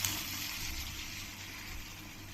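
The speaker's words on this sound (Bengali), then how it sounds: "এবার আমি জল দিয়ে দেবো" Water pours steadily into a pan of well-fried spice paste for a Bengali rohu fish curry, a continuous close splashing gush with no break and no talk.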